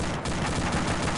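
Rapid gunfire in a military video game crackles as a dense, continuous burst of shots, loud and unbroken for about a second.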